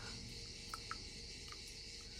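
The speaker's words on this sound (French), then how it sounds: "mais il y a déjà les cigales." Cicadas singing at dawn, a steady faint buzzing drone with a few soft chirps rising briefly above it, distant and alone with no voices.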